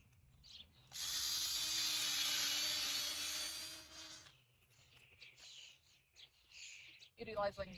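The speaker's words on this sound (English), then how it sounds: "Utilizing the drill really makes digging easy and fast." A power drill digging into garden soil whirs steadily for about three seconds, grinding with a gritty rasp, then cuts off, leaving quieter scraping and rustling.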